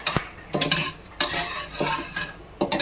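A metal spoon repeatedly scrapes and clinks against a pot in short, regular strokes, close up and crisp.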